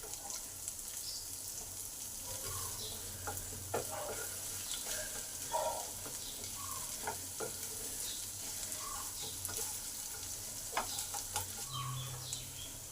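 Onions and curry leaves fry in a pan with a soft, steady sizzle, punctuated by the scrape and clatter of stirring, with no talking.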